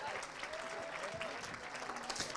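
Audience clapping at the Spirit of Manchester 2024 live show, a dense, steady wash of applause that holds throughout, with voices faintly mixed in.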